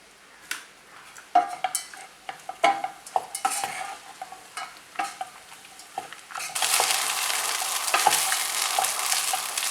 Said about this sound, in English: so I'm going to fry the rice for about a minute